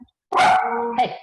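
A single loud dog bark, close by, sounding in an indoor room, with a short spoken word just before it.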